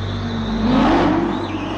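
A Corvette ZR1, GM's 638-horsepower American car, revs its engine in a sustained loud roar that climbs in pitch toward the middle and then settles, with steady low rumble throughout and no talk.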